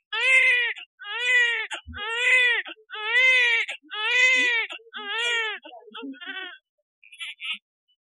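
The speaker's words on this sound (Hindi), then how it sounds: "और इतने में ही हमको बच्चे की रोने की आवाज आने लगती है।" A newborn baby cries in a hospital scene, a string of loud, close wailing bursts in a steady rhythm, tapering into shorter whimpers and a final faint cry, with no talk over it.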